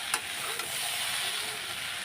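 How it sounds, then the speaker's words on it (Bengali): Potatoes frying in a pan with salt and turmeric give a steady, close sizzling hiss throughout, with a brief stirring click near the start. "আলু ভাজা বসিয়ে দিয়েছি।"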